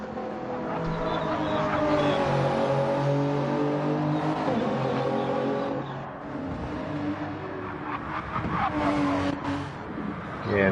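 A race car, a small-tyred competition car in a Div 2 time-attack round, drives on track with a steady engine drone that rises and falls through gear changes, continuous and fairly close, with commentators talking over it.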